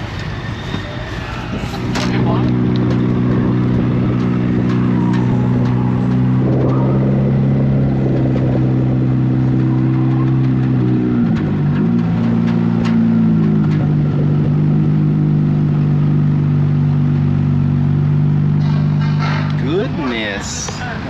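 Engine drone from a drag-style race car making test runs on the M1 Concourse road course, with steady harmonic tones rising and holding for about twenty seconds, loud and continuous, shifting pitch midway.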